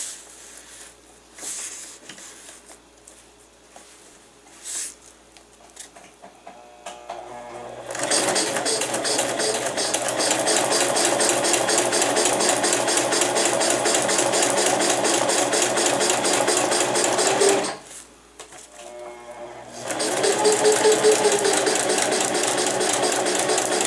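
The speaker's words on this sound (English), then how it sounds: "I'm just going to cut a little square here and use it as a patch and then sew it." A sewing machine stitches a nylon patch onto a Sea to Summit Ultra-Sil day pack, first in short stop-start bursts, then running fast and continuous for about ten seconds, pausing briefly and resuming, close and loud.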